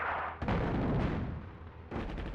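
Bombs burst in the North Africa real-time strategy game Attack at Dawn, a heavy rumbling explosion followed by a long decaying roar, then a second blast near the end.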